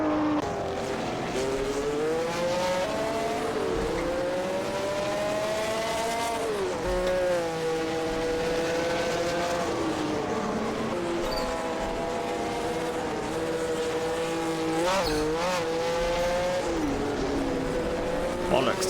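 A Porsche race car's engine drones and swings up and down through gear changes over a lap of the Targa Florio in a racing game, close and continuous, with a person talking over it.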